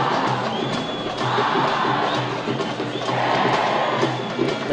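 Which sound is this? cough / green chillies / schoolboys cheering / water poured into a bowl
schoolboys cheering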